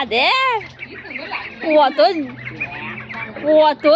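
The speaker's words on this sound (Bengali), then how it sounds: "মিনাল ডিম দিয়ে প্যাক প্যাক প্যাক প্যাক করছে" A duck quacks repeatedly and loudly up close, harsh nasal calls in quick bursts with short pauses between them.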